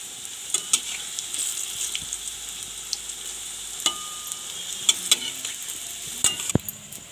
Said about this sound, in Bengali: তেল গরম হলে একে একে পকোড়াগুলো ভেজে নেব